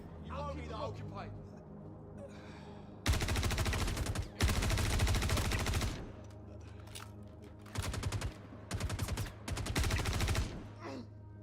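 Light machine gun fire from an FS9 in the video game Star Citizen, heard as several long, loud automatic bursts separated by short pauses, with a faint voice talking before the first burst.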